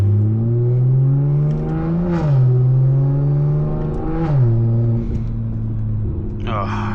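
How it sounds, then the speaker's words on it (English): An 800hp BMW 340i in Sport Plus with manual shifts drives with a loud, close engine drone that rises and drops between gear changes, turbo whoosh riding on top, and a person talks over it. "Oh, do the turbo spools."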